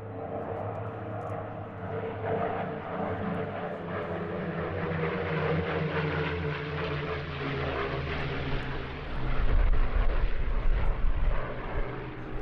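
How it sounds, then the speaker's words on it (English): MD-312 six-seat transport and MD-311 navigation trainer propeller aircraft flying past at the Jersey International Air Display, a steady droning engine roar that builds and grows louder toward the end as they near. "In the lead is an MD-312, a six-seat transport aircraft, of which 118 were built."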